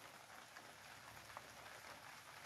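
Steady rain falls at night, a constant hiss of drops on surfaces with no other sounds, quiet and even throughout.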